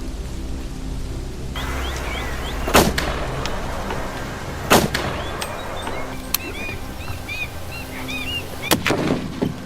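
Rifle shots fired at a Nile crocodile during a fishermen's hunt outdoors, three sharp loud cracks spaced a couple of seconds apart over a steady background of insects and birds.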